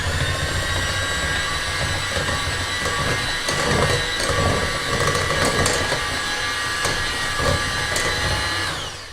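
An electric hand mixer whirs steadily at close range for a few seconds, a high motor whine with faint scraping and knocking against the bowl as it mixes, then stops.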